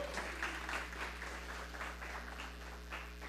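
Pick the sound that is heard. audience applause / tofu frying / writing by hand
audience applause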